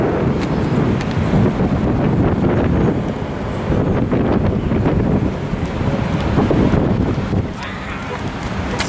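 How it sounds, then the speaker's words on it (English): Strong gusting wind buffets the microphone outdoors at a highway rest stop in bad weather, a loud continuous low rumble that swells and dips throughout. "it's really icky out, and it's really windy"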